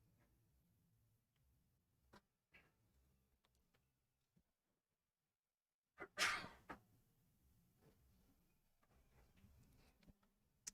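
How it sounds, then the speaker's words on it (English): A single sharp sneeze bursts out in a quiet room during a live pool match broadcast, with faint clicks and small noises before and after. "Had to sneeze. Excuse me."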